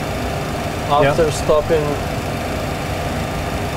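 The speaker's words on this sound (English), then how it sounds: "but turn off the remaining engine" A Boeing 737's one remaining engine idles on the ground after an engine failure, a steady low drone that runs throughout while someone speaks briefly over it.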